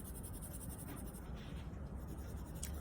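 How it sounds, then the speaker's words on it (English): Dark brown coloured pencil shading back and forth over earlier layers on paper, a steady close scratchy rasp that continues without a break. "I am applying a dark brown pencil over the top"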